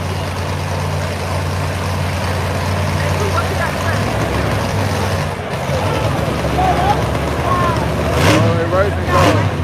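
A race car engine idles at a street racing event, a steady low rumble running under nearby chatter and crowd talk throughout.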